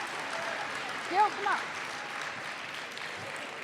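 An audience at a Latino youth conference claps for the sponsors, a soft, fairly distant wash of applause throughout with a short spoken call in the middle.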